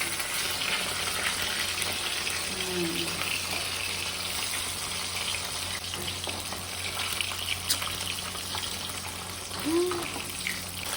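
Food sizzling and frying in a pan at home, a steady broadband crackle lasting throughout at moderate loudness, with faint sounds of movement in the background and no talking.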